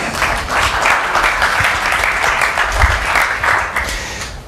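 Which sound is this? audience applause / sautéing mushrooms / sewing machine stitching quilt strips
audience applause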